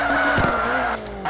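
A Nissan S14.5 drifting on a mountain touge road in CarX Drift Racing 2 lets out a loud, sustained tire squeal over engine roar, easing off and then briefly returning near the end.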